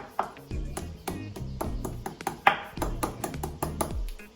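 Lemongrass is pounded to crack it while making Thai chicken tom yum, with a series of sharp, fairly quiet thumps and knocks in an uneven rhythm.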